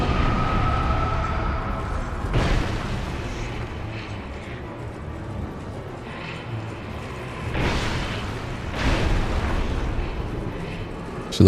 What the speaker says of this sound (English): She's gonna explode.